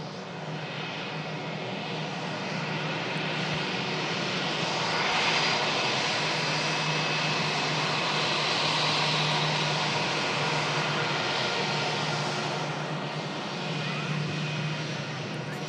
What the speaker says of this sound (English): British Airways A319 coming in from London Heathrow on the shuttle service here.